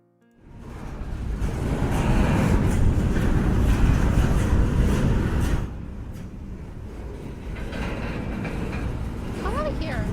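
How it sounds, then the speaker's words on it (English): A train sound effect plays as a loud, continuous rumbling roll of rail cars that drops in level midway and then carries on more softly. "Train."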